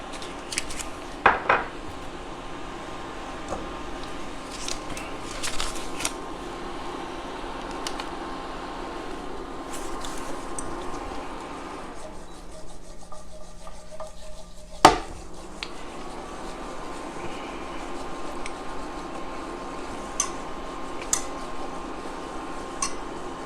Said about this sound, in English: had to stir that really quick.